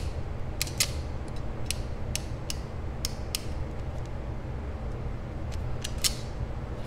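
Ratcheting crimping tool with interchangeable 0.5, 1 and 1.5 mm crimping teeth being worked, giving sharp, close creaking clicks at irregular intervals over a steady low background hum, without speech.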